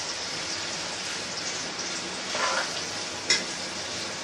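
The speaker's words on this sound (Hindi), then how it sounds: "यहाँ हमारी प्याज जो है फ्राई हो रही है" Finely grated onions frying in hot oil give a steady, dense sizzle like rain, with a brief stir or clink near the end.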